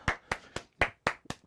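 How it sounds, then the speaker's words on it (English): A small audience claps for a band in a few sharp, evenly spaced claps, fairly faint, with no talking over them. "give a round of applause to the band over there"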